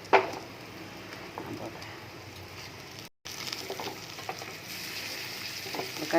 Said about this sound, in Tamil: கடுகு, வெந்தயம், கருவேப்பிலை எல்லாம் போட்டு